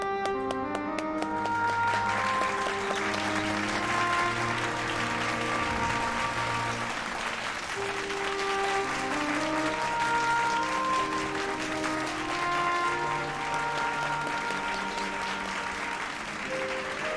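Steady crowd applause in Final Fantasy XIV following a speech, a dense sustained wash of clapping running throughout over layered orchestral music.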